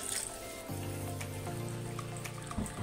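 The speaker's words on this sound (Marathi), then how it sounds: "मी ह्याच्यामध्ये आता एक छोटा कप पाणी घालते" A small cup of water poured into a pan of mushroom curry makes a faint, brief splashing trickle with a gurgling, tonal quality that shifts in pitch as the liquid fills in.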